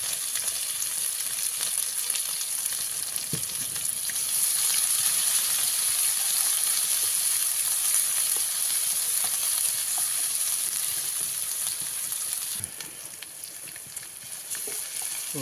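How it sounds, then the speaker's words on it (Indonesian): Spice paste being stir-fried in a pan in a rustic hut kitchen, a loud, close, continuous sizzle with occasional scraping stirs and a brief dip near the end. "Kita tumis dulu bumbunya, kawan-kawan."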